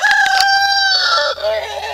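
Farmyard chickens and a crowing rooster close by, with harmonic calls and clucks over a low steady hum, kept alongside turkeys on a small farm in March.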